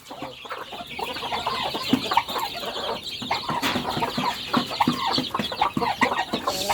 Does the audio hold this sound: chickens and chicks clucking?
yes